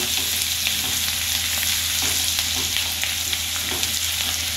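Onions frying in oil for a Punjabi dhaba-style egg curry, a dense, loud, steady sizzle with faint stirring scrapes running throughout and no voices.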